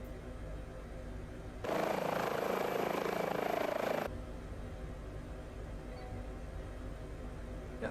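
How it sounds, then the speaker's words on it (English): An Airbus H145 rescue helicopter's rotor roars up loudly for a few seconds, then drops back to a lower steady engine hum, heard close with no voices. "Get the rotor RPM going"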